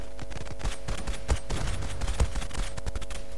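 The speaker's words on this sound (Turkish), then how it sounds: "Sesi duyuyorsunuz. Yavaş yavaş ateş ediyor. Susturucu." A silenced M4 rifle fires in the video game Zula, with a series of muffled, irregularly spaced shots over a dense, continuous background of game noise.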